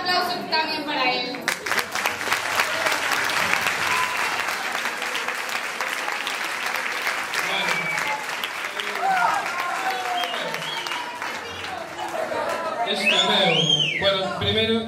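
Sustained audience applause fills a room at an audiovisual festival, a dense steady patter of many hands that swells again near the end as voices begin to talk over it.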